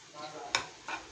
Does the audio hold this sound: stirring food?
yes